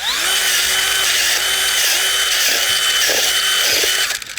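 A power planter auger drill whirs steadily and loudly as it bores into soil, a continuous high motor whine with slight load changes, stopping abruptly near the end; no one speaks.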